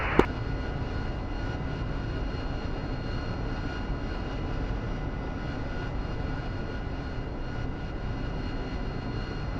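A military jet's engine running on the ground in the DCS flight simulator during a night two-ship training session, a steady, unbroken close roar with a brief click at the start and no voices.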